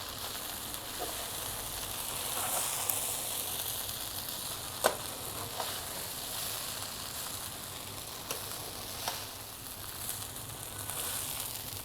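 Chicken Chinese fried rice sizzles steadily in a hot pan while being mixed, with a continuous close frying hiss and occasional sharp scrapes and clicks of the spoon against the pan.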